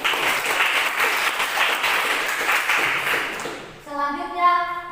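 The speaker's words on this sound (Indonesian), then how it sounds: "mari kita kasih aplaus kepada Anda" Classroom audience clapping for students who answered correctly, a sustained burst of applause that fades out and gives way to a short electronic chime-like tone at the end.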